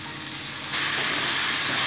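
Water is poured into a pan of boal fish head frying in oil, the sizzle rising sharply into a louder, broad hiss partway through and holding steady, with no talking.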